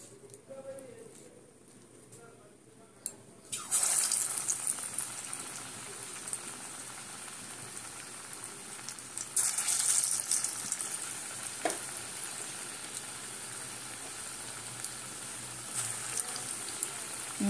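Thick bora batter drops into hot oil and fries with a loud, steady sizzle and crackle that swells again partway through. Someone talks over it.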